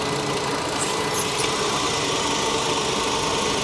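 Volkswagen 2.5 engine running steadily under the hood, a close, constant broadband idle rumble with no breaks and no talking.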